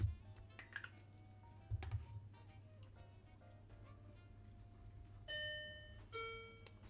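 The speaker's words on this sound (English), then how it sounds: "Sorry, that is the doorbell." A doorbell rings twice in quick succession near the end as a clear two-note chime, heard faintly indoors over soft keyboard typing.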